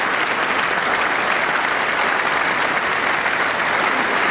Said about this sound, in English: Long applause